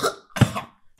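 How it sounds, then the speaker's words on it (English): Two harsh coughs, the second longer and throatier, followed by a short sharp final hack, close and alone. "Maybe he's just coughing for maybe a reason."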